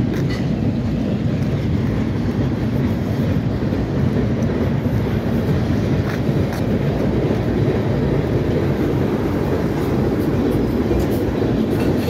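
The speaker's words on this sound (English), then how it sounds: "Probably just a switcher train" A CSX freight train led by a reversed Norfolk Southern GP switcher rolls past with a steady, loud low rumble and faint wheel clatter, continuous throughout with no talk.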